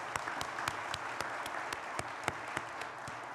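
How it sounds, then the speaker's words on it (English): Polite applause rises from the audience at a reunion award presentation, a soft, fairly thin round of clapping with distinct individual claps popping through over a few seconds. "let's give him another round of applause"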